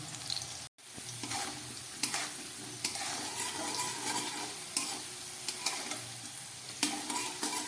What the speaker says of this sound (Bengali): একদম গ্যাস কমিয়ে খুব ভালো করে আমি এটাকে ভেজে নিচ্ছি